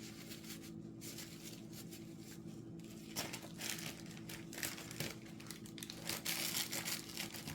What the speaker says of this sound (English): You hear all this rustling noise. It's just me cleaning my stirring sticks, my scissors.